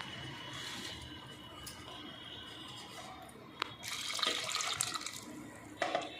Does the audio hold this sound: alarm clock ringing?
no